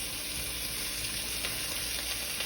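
Shrimp fry in a pan with only a little oil, making a dense, even sizzle that holds steady and close for the whole stretch.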